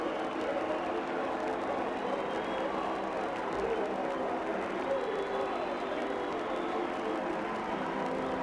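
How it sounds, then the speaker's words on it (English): A baseball crowd at a Cubs game roars after a home run, a dense, steady wash of cheering from the stands that fills the whole stretch, with faint commentary voices mixed in. "Listen to the crowd."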